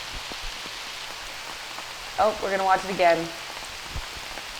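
Rain falls on a disc golf course, a soft, steady patter under a brief stretch of talk partway through.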